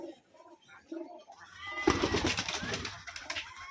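Frightened pigeons, green and biscuit-coloured Rajshahi Giribaz tumblers, coo and rustle faintly inside a room, with a louder burst of fluttering and shuffling midway and soft low cooing throughout.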